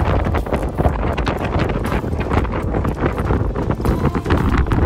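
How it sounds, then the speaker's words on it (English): Strong wind buffets the microphone on a steep mountain pass in the Pyrenees in early June, a loud, continuous roar with gusty rumble and no voices. "To say that the pass was windy is an understatement."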